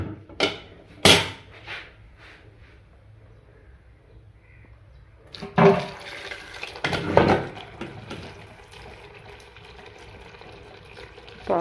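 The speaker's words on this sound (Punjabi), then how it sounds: "ਪਾਲਕ ਨੂੰ ਅੱਛੀ ਤਰ੍ਹਾਂ ਵਾਸ਼ ਕਰਦੀ ਹਾਂ ਪਾਣੀ ਪਾ ਕੇ" Fresh spinach leaves washed in a vessel of water, with a few sharp splashes early on, then louder, continuous sloshing and running water through the second half; no talk.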